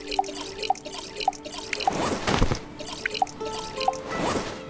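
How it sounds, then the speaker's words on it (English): Water bottles being filled in the survival game Stranded Deep: a run of regular, close drips and small liquid plinks, swelling twice into short pouring, gurgling bursts, with no talking. "fill up my water bottles."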